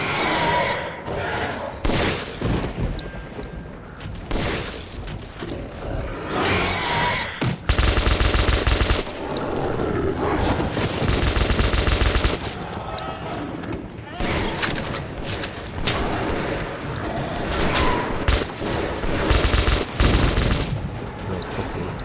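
Gunfire in the video game Metro 2033: dense, loud automatic bursts and fusillades recurring throughout, with booms and mechanical clanks, and someone talking in French between shots.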